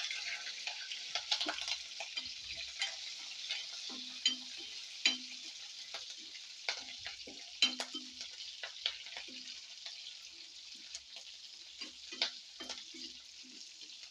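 Onions and green chillies frying in a pan, a steady sizzle with intermittent stirring clicks and scrapes throughout, no talking.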